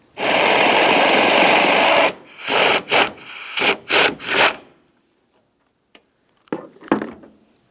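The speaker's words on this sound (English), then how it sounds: "We'll remove each one of these two 15mm headed nuts and then we'll make our way back into that wheel well." Ratcheting and scraping of a 15mm wrench on a wobble extension loosening nuts on a 2002-2009 Chevrolet Trailblazer front shock mount: a long dense burst, then several short separate clicks and rubs, ending with faint sparse taps.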